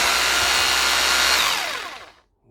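AYCE power drill spinning a drill bit, a loud high-pitched whirring whine that holds steady, then spins down and fades out as the trigger is released.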